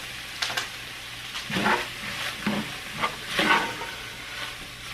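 Garlic and onions cook with ground chuck in a pot, giving a soft, steady sizzle with quiet stirring scrapes and gentle pops that rise and fall at low volume.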